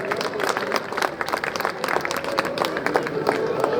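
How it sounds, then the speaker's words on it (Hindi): Steady, sustained applause from a sizable crowd at a student awards ceremony in Kishangarh, India, dense clapping filling the whole stretch with a few voices faintly mixed in. "जोरदार तालियां हो जाए इस बच्ची के लिए"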